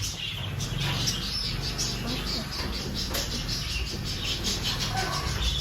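Pet cockatiels and budgies chirp and tweet in a cage, a busy stream of high calls over a steady loud background hum.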